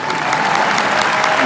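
A large audience applauds at a Christians United for Israel event where Israeli Prime Minister Netanyahu speaks, a dense, loud, steady clapping that fills the whole short stretch.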